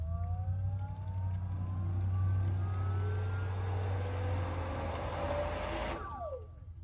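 A pool pump starting up and running through its priming sequence, a loud steady motor hum with rising whining tones building for several seconds, then cutting off abruptly near the end.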